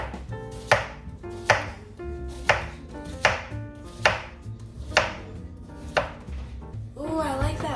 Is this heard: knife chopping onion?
yes